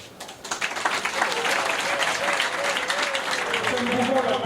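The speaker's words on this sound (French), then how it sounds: "Est-ce qu'on peut encore applaudir, s'il vous plaît?" An audience claps in sustained, dense applause at an official ceremony with a minister present, steady and fairly loud throughout, while a voice speaks over the clapping.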